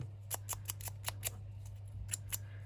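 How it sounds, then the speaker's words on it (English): Scissors trim paper for a junk journal in a quiet room, a string of about ten short, crisp snips in an uneven rhythm, close and soft over a low steady hum. "I'm just going to trim it up"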